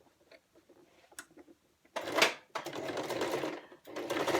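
A sewing machine stitches a fabric face mask. Faint ticks and handling come first, then the motor bursts into loud, fast running, pauses briefly, and runs again in a steady rattling whir.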